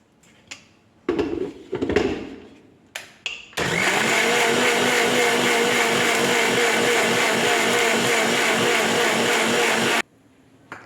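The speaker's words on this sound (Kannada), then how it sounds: "ಮುಚ್ಚಳ ಮುಚ್ಚಿ ಮಿಕ್ಸಿ ಓಡಿಸೋಣ." A mixer grinder whirs loudly and steadily for several seconds after a few brief clatters and knocks, then cuts off abruptly.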